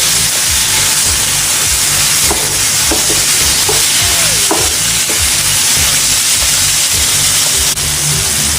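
Tomatoes are mashed into masala in a hot frying pan for mutton liver masala, a loud steady sizzle and hiss with scraping stirring strokes throughout, close up and continuous.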